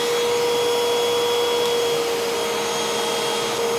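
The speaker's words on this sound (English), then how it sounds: "we'll go ahead and turn the vacuum on" Vacuum cleaner running as a steady load on a LiFePO4 battery bank: a loud, constant motor whine with an even hum and airy hiss, unbroken throughout and with no voices.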